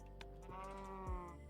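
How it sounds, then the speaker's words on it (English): A sheep in the Minecraft TerraFirmaCraft modpack gives a single short bleat near the end, faint and set over a low, steady in-game hum and background music. "Bring the sheep over here"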